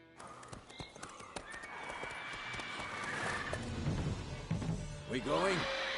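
Roach, a horse in a video game, trots with rhythmic clip-clop hoofbeats and gives a loud neighing whinny near the end, with a voice speaking over the hooves.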